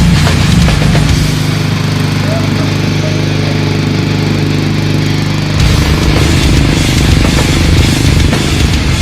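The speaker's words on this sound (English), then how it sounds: "Burnout in a lawnmower." A turbocharged lawnmower engine revs hard during a burnout, a loud, sustained high-pitched drone whose tone shifts partway through as the throttle changes, with a voice talking beneath it.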